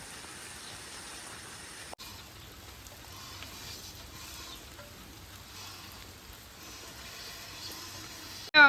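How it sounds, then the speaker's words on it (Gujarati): Heavy rain pours steadily in a broad, even hiss throughout, with a brief dip near two seconds and a sharp knock at the very end. "આ સાઈડ થી વરસાદ આવે હે."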